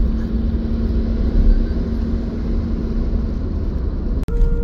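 A car drives along a road heading toward Kasara Ghat, its engine and tyre noise a steady, close rumble inside the cabin with no talk.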